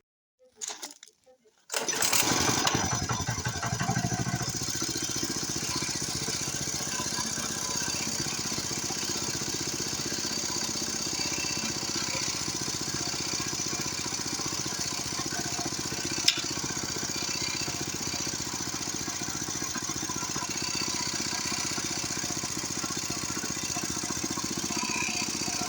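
After a brief quiet start, a motoblock walk-behind tractor engine fires up and runs steadily at a constant, loud, close droning idle with a slight rattle, holding unchanged to the end.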